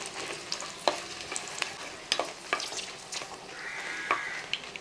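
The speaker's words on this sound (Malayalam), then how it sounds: "ഈ വെളിച്ചെണ്ണ ഒന്ന് ചൂടായതിനു ശേഷം കുറച്ച് വറ്റൽമുളക്, ഏകദേശം ഒരു 10-20 വറ്റൽമുളകുണ്ട്. ആ മുളകൊന്ന് വറുത്തെടുക്കണം" Dried red chillies fry in hot coconut oil with a faint, steady crackling sizzle, and a spoon or spatula clicks against the pan at irregular intervals.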